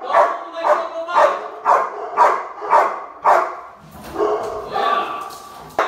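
A dog barks close by in loud, evenly spaced bursts, about two per second, before the rhythm loosens into rougher, messier barking near the end.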